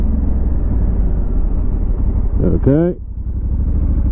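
Steady engine drone and road rumble from a 2022 Honda CRF1100L Africa Twin Adventure Sports DCT motorcycle riding on rough tarmac, with a rider's brief voice near the end.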